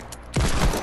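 Gunfire in the video game Fortnite: a quick, loud burst of several shots arrives after a brief quieter moment and fills the rest of the short clip.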